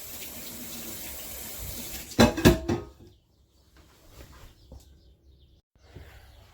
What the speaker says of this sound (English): Give me a second here to rinse my hands off.